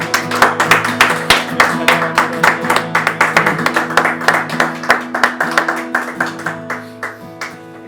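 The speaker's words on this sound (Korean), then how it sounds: "하나님께 영광의 박수 올려드리겠습니다" A congregation at a Korean worship service claps in unison, loud sharp beats in a steady rhythm of roughly two per second over a sustained musical drone, slowly fading toward the end.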